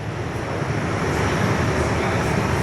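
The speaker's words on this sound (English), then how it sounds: "Virgin Aussie 737-800 is now crossing over runway 24." A Virgin Australia Boeing 737-800 crosses a runway at Perth airport, heard from an indoor viewing platform as a steady, moderately loud jet engine roar with a constant hiss and no talking.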